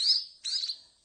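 Rescued Java sparrow chicks give high, thin chirps in two quick calls and a short third, close and clear against silence.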